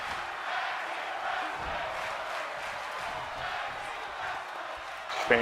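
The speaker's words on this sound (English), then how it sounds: "Fans really cheering on here." Crowd cheering in the WWE 2K22 wrestling video game, a steady roar of fans that holds throughout, with a brief louder burst near the end.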